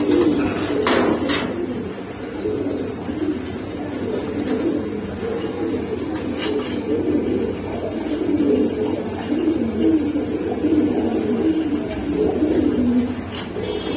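Caged Panji Fantail pigeons coo continuously in a low, rolling chorus close by, with a few sharper clicks and rustles scattered through.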